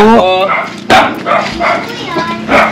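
A person imitates dog barking with a few short, loud yelping barks, mixed with other voices talking nearby.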